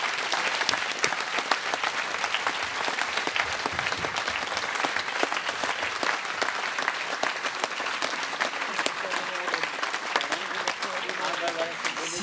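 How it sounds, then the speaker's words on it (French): Audience at an evening talk on a K2 summit paraglide applauds steadily for about twelve seconds, a dense, sustained clatter of many hands with a few voices mixed in. "Je vous propose qu'on les applaudisse encore une fois."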